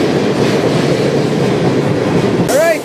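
A freight train rolling past on the High Line near Sandpoint, a loud, close, continuous rumble of wheels and cars, with a brief squeal rising near the end.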